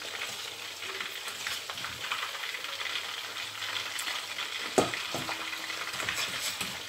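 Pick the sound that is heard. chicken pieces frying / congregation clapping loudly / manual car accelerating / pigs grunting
chicken pieces frying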